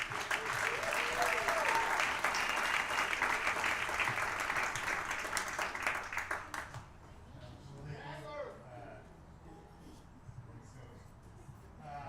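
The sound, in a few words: audience applause at hall of fame ceremony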